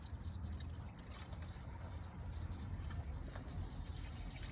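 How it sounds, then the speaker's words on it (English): Water pours from a milk gallon into the radiator of a 2008 Honda Pilot, a quiet continuous trickle and gurgle heard up close and faint, with no talk. "Pour some water in there."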